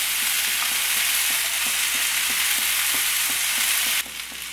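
Okra and potato stir-frying in a pan with a loud, continuous sizzle, accompanied by regular soft scrapes of a stirring spoon, then the sizzle drops briefly near the end.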